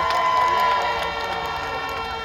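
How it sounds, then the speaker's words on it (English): A crowd at a live reggae festival show cheers and claps, a loud, bright roar that eases slightly over about two seconds. "Clap my son. Clap my son."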